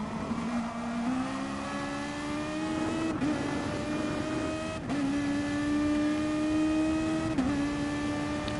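Race cars threading a chicane at the Nürburgring GP in GT Sport, including a BMW: close, steady engine drones rising in pitch with quick downshift blips, continuous and loud throughout.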